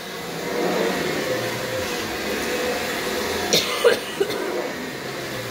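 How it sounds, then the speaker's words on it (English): A few short coughs break out near the end over a steady droning hum from a running Kirby vacuum cleaner, with dust stirred into the air. "I'm starting to cough because there's stuff already coming up in the air."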